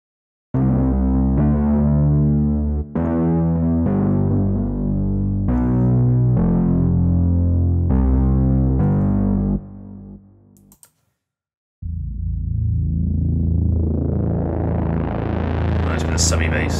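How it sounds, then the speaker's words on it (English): Synth bass notes played on a software synthesizer, heavy with reverb, repeat in a steady series of sustained, thick low tones. A short gap follows, then a long, swelling distorted tone. "Surprising amount of reverb on some of these basses"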